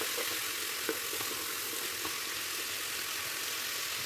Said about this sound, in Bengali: এখানে ক্যাপসিকাম, বিট, গাজর সমস্ত সবজি আমি দিয়ে দিচ্ছি, দিয়ে হালকা নাড়াচাড়া করে ভেজে নিচ্ছি।